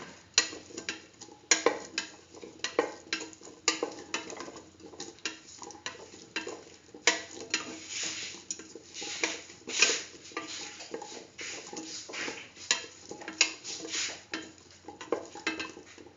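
A spoon stirs chayote pieces with spices and rice in a pan, making steady scraping and clinking strokes in a loose repeating rhythm, close and moderately loud with a soft sizzle beneath.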